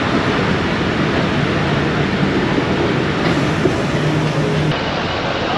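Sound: Karachi Circular Railway local train departing station

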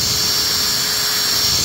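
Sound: drill spinning a honing tool in a master cylinder bore

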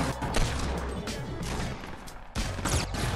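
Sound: gunfire in the video game Fortnite

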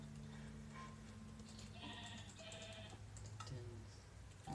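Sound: sheep bleating in a video game

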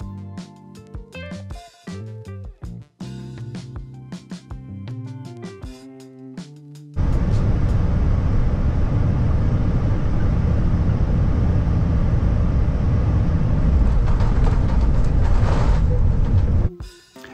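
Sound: ZIPAIR airliner making a bumpy landing approach into Narita

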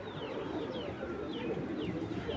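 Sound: pigeon cooing

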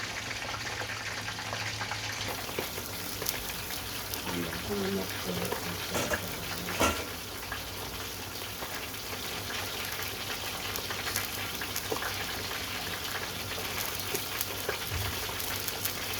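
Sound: water sizzling in pan while cooking sea bream

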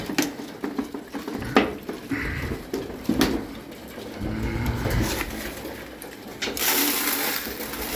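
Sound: pigeons cooing in the loft

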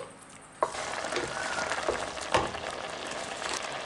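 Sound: seafood pasta sauce boiling and reducing in pan

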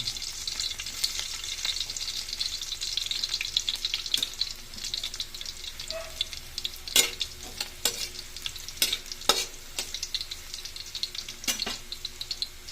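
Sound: garlic frying in cooking oil

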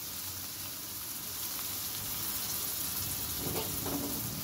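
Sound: frying boiled soybean chunks in a pan

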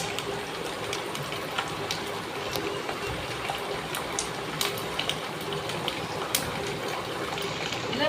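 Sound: tamarind extract being poured

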